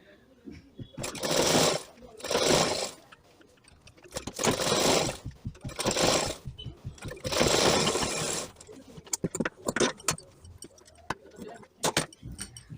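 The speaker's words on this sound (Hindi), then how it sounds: "तो हम ध्यान से सिलाई लगाएंगे जो कि गड़बड़ ना हो" Blouse sleeve stitched on a sewing machine in bursts of fast, rattling whirring, five runs of a second or so separated by short pauses, followed by lighter mechanical clicks and taps.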